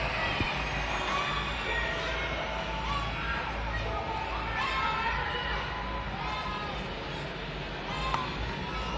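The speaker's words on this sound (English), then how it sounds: "Lander Center, let me hear you scream for Alex Barden, Earthshaker." An arena crowd at a Monster Jam event roars and screams continuously, a dense wash of many voices filling the space, with a loud announcer in the mix.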